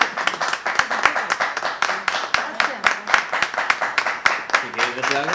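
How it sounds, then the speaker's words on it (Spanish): Audience applause at a municipal event honoring a tourism councillor, a steady run of many hands clapping at moderate loudness, with a voice briefly audible near the end. "aplaudimos poco, ¿no?"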